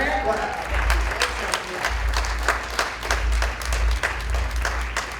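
Gala audience at a Haitian community partners event in Boston applauds for Marlene Amity, a dense sustained clapping from a large crowd heard close throughout, with a low steady hum underneath.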